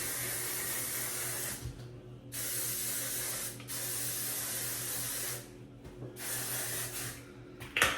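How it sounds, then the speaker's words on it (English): Hairspray hisses from an aerosol can onto freshly curled hair in several long, close bursts separated by brief pauses. "And I spray the crap out of my hair."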